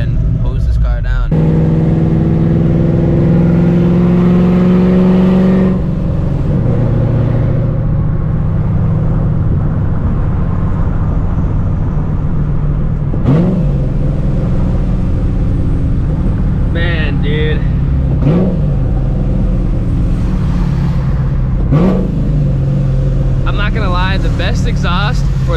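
A supercharged 2004 Mustang GT with a straight-pipe exhaust drones loudly while driving, its engine tone climbing briefly at the start before settling into a steady rumble as someone talks over it.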